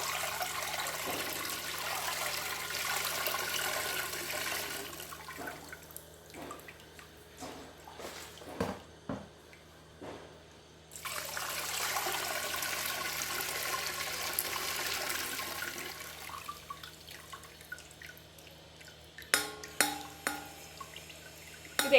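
Homemade black grape wine streams and trickles as it is poured through a strainer into bottles, two longer pouring runs broken by drips, clinks and handling noises, close and quiet with no talking.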